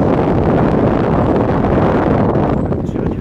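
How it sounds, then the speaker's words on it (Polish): Wind gusts batter the microphone at an outdoor beehive apiary in a park beside a small pond, a loud, continuous low rumble and buffeting that eases slightly near the end. "pogoda jest 14 stopni, ale wietrznie tutaj na tej pasiece"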